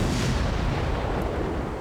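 Heavy naval gunfire from warships in World of Warships rumbles without a break, a dense, booming roar that stays loud from start to finish with no voices over it.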